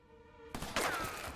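Gunfire in the New Tales from the Borderlands video game bursts in abruptly after a sustained tone, a loud cluster of sharp cracks and thuds with a whizzing streak, close and unaccompanied by speech.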